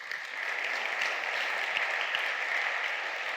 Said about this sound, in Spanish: Da un aplauso al Rey.